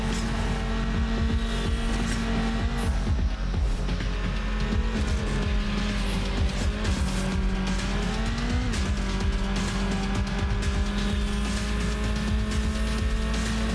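Race car engine from the Need for Speed Underground video game, a loud sustained drone that rises and falls through gear shifts, with tire noise and skidding throughout and no talk.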